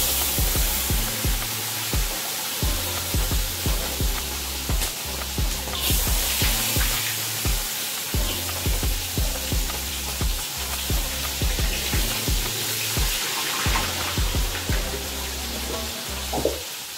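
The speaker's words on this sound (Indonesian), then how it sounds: "Saya akan terus goreng." Dried shrimp frying in a pan of oil, a steady loud sizzle with the clatter and scrape of stirring repeating throughout, no talking.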